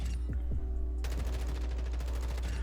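An assault rifle fires in a Call of Duty: Warzone firing range. A couple of isolated shots give way to a rapid, sustained automatic burst, with sharp, loud reports repeating in quick succession.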